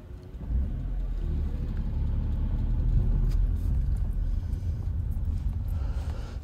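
Car driving along the main shopping street in Cala Ratjada, Mallorca, heard as a steady low engine and road rumble from inside, continuous and moderately loud with no talk.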